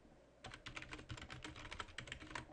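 Quiet, steady typing on a computer keyboard, a rapid run of soft key clicks close to the microphone with no talking.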